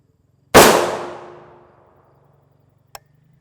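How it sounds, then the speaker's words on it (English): A single loud gunshot strikes an RTS Tactical Mini Shield Level IIIA armor plate, a sharp crack with a ringing decay, followed by a faint click a couple of seconds later. "these should be all shots on the lower part of the plate"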